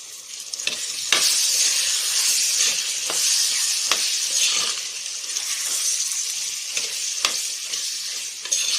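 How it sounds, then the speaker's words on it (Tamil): Turkey berries (sundakkai) fry in hot oil for a kara kuzhambu, giving a steady, close sizzle. Stirring scrapes and clicks come through now and then, and no one speaks. "இப்போ சுண்டைக்காவை ஆட் பண்ணிட்டோம். நம்ம இது கொஞ்ச நேரம் எண்ணெயிலேயே வந்து வதங்கணும்."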